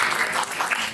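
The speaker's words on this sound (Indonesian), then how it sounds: "Tepuk tangan untuk Belijro sekali lagi." An audience at a local art festival in Mbangunrejo claps, a brief burst of dense, steady applause.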